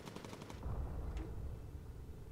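Defensive turret guns on a bomber in the game Bomber Crew fire a short rattling burst at enemy fighters, then stop, leaving a steady low engine drone underneath.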